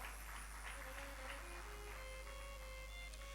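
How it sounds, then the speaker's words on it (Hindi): Steady applause from the audience at a Bhagwat Katha religious gathering, continuous clapping under a constant background hum and faint music tones. "इनके लिए ताली बजाओ जोरदार"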